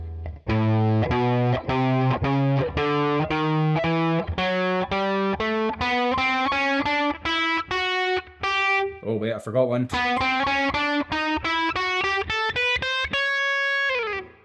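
A distorted electric guitar picks Mixolydian palette notes one by one, climbing from low to high in a steady, loud run. A brief spoken aside breaks in midway.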